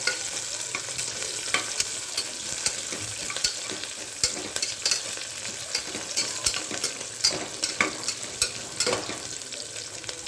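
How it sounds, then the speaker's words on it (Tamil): Ginger and curry leaves being stirred in a frying pan with green pepper, a continuous sizzle with frequent scraping spoon strokes close by and no talking. "இஞ்சி கருவேப்பிலை மிக்ஸ் பண்ணி விட்டுக்கலாம்"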